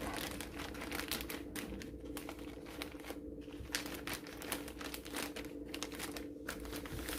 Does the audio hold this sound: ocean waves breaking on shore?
no